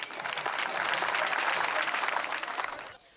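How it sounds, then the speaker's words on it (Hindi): A crowd at a Hindi kavi sammelan applauds a 14-year-old poet invited to recite: steady, full, close clapping that swells and holds for about three seconds, then tapers off quickly. "जोरदार तालियां"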